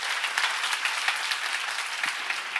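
A seminar congregation claps together during a sermon on Romans, a short burst of steady, dense applause heard alone in a hall.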